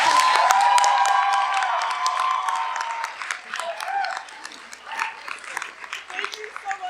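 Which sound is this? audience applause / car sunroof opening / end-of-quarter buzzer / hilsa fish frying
audience applause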